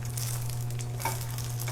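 Bacon frying in a pan for Himmel und Erde, a steady soft sizzle with a low constant hum beneath it, brief and alone without any talk.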